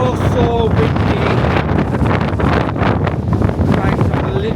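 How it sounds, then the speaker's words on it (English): Strong wind roaring across a mountain summit on Snowdon, a loud, constant buffeting rush over the microphone with a voice faintly underneath. "I don't know if you can hear that wind, but it's so windy up here"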